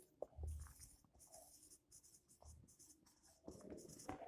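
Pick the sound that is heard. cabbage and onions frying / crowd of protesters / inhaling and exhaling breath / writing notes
writing notes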